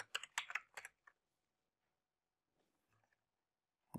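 A short burst of rapid keystrokes on a computer keyboard, entering a number into an online application form, then near silence with a few faint taps and a final clack.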